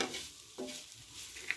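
Keema sandwich filling fries in a pan with a soft sizzle and occasional stirring scrapes, faint and close, with no voices.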